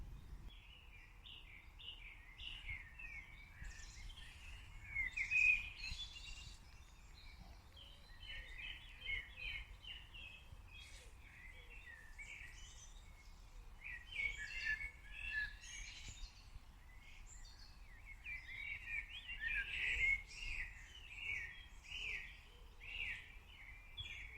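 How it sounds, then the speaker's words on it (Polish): Small songbirds chirp and twitter on and off at a distance in the early morning, a steady scatter of faint calls over a low background hum, with no talking. "są takie cudowne ptaszki, świergotki poranne"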